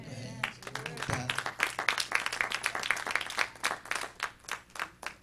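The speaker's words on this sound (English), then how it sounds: "Come on, clap your hands." A congregation at an evening Bible study claps their hands in a rhythmic run of sharp, distinct claps, mixed with voices calling out over the clapping.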